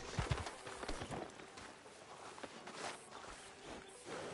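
Horse hooves clop at a walking pace in Red Dead Redemption 2, a soft, fairly distant rhythmic patter with faint background ambience.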